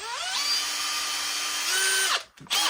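A drill press whines steadily drilling wood with a rising and falling pitch, then spins down and briefly starts again, close and fairly loud.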